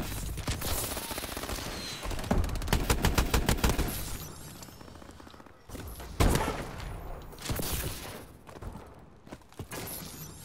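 Rapid gunfire in Call of Duty: Advanced Warfare, dense bursts of automatic shots and sharp cracks with a heavier thump near the middle, loud and continuous with short lulls between volleys.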